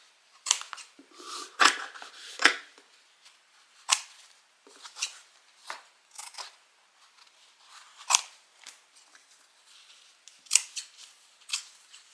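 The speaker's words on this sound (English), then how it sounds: "go ahead and cut the center out" Scissors snip through quilting fabric to cut out the center, a series of sharp, close crisp cuts at an uneven rhythm with quiet pauses between, no talk.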